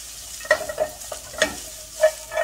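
Celery, broccoli and asparagus stir-fried in a pan, with a steady low sizzle under repeated scraping, tossing strokes that come in irregular bursts, up close and fairly loud.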